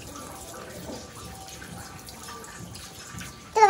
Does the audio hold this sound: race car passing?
no